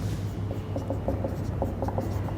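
A marker or chalk writing on a board during a lesson on innate immunity, short repeated strokes and taps over a low steady hum of the room, faint and without talking.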